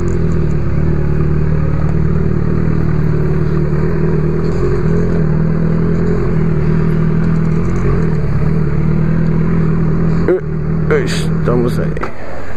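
A black Honda CB1000R motorcycle is heard on the move, with a steady loud engine drone and road and wind noise throughout. A rider talks over it, and there is a brief change near the end.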